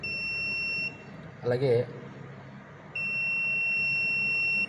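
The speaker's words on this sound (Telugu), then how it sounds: "ఒక 5 సెంటీమీటర్ డిస్టెన్స్లో మీరు పెడితే ఇక్కడ బజర్ సౌండ్ అవుతుంది." The buzzer on an ARM Cortex M3 board, triggered by a flame sensor, sounds as a steady high-pitched electronic tone, cutting off briefly while someone speaks a word, then resuming loud and continuous nearby.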